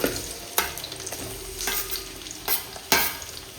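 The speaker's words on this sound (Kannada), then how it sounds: "ಮೊದಲಿಗೆ ಇವಾಗ ಈರುಳ್ಳಿಯನ್ನು ಫ್ರೈ ಮಾಡ್ಕೊಳ್ಬೇಕು. ತೆಂಗಿನ ಎಣ್ಣೆಯಲ್ಲಿ ಫ್ರೈ ಮಾಡ್ಕೊಳ್ತಾ ಇದ್ದೆ" Chopped onions frying in coconut oil in a pan, a steady close sizzle broken by several sharp scraping stirs of a spatula, no voices.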